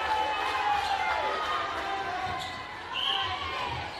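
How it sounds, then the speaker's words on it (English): A vocal crowd at a mixed national netball tournament in Waitākere, a steady murmur of voices and calls with a ball bouncing on the court, while a commentator talks over it. "Very vocal crowd here,"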